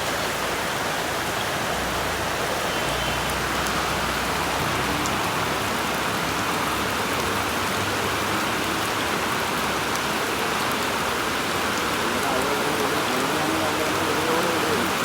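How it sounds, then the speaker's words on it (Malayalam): Dense, steady downpour of heavy rain drumming on surfaces, a constant loud hiss with no pauses. "ഞാനും മഴ കൊള്ളാണ് കേട്ടോ"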